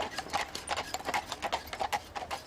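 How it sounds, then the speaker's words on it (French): Horses' hooves clip-clop in a steady, brisk rhythm on a city street in Tarbes, moderately close and faint, with no one talking over them. "Au rythme des sabots des chevaux, Janine découvre sa ville"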